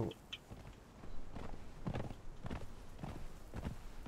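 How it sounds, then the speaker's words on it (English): Horse hooves clip-clop at a steady walking rhythm in the Conan Exiles video game, a run of close, moderately loud thuds over a low background rumble. "Get on the horse. Let's ride out."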